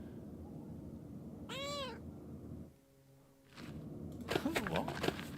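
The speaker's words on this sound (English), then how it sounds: "Think we may have disturbed Kitty there." Cat in the Pentiment video game lets out one clear rising meow, then a longer, louder warbling yowl near the end, over a low background hum with a brief lull between them; a voice can be heard speaking.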